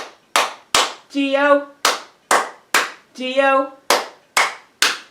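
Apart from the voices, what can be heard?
hand claps during Bingo song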